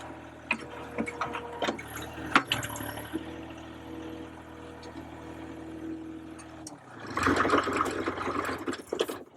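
A Toyota Huski 5 SDK5 skid steer runs with a steady mid-level engine drone while it picks up its bucket, with clanks and knocks along the way and a louder, rougher hydraulic and metal surge near the end.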